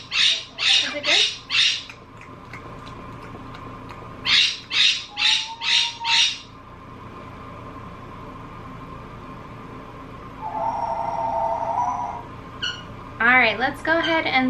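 Pet cockatiels squawk and chirp in short repeated bursts while eating chop at supper time, with rapid chirps near the end over a steady background hum.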